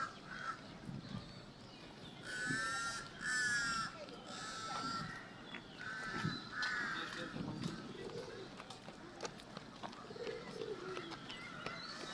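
Crows caw in short bursts amid outdoor crowd chatter and bustle in Lumpini Park, Bangkok, the calls moderately loud and repeating over steady background noise.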